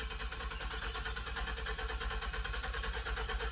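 Car engine cranking on the starter without catching, a steady dense mechanical whir and chug held throughout, close and continuous.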